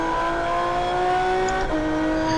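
Aston Martin Vulcan V12 race car at the Paul Ricard circuit, a loud, steady high-pitched engine drone held close with a brief dip in pitch as it shifts gear, running alone without talk.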